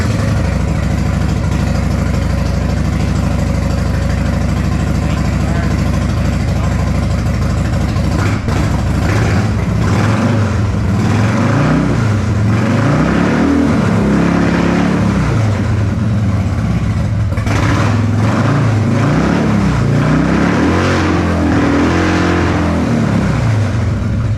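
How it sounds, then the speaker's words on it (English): A Harley-Davidson motorcycle engine fires up in a garage and settles into a loud, lumpy idle, its rhythmic rumble rising and falling with occasional throttle blips. "quick startup and give you some of that Harley sound"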